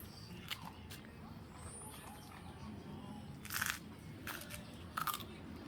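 A dog chews a treat in a quiet room, giving a few faint sharp crunches over a low steady background hiss.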